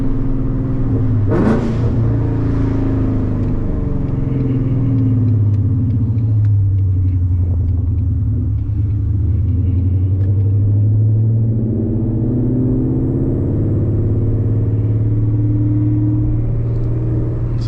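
A 2015–2023 Ford Mustang GT V8 with an aftermarket exhaust idles in a deep, close rumble while the throttle is blipped gently, producing swelling, wavering rises in engine tone over a continuous low drone.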